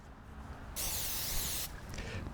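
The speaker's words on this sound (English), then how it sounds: "I'm going to spray it down with a little canola oil, this being Pam spray." Canola oil cooking spray (Pam) sprayed onto a pizza screen for campfire pizza, a single close hiss lasting about a second amid quiet surroundings.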